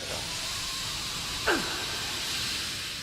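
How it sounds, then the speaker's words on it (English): Steam hisses steadily and broadband in the video game Outlast Whistleblower, a continuous hiss that holds throughout with one brief swell partway through, with no talk. "Steam hurts."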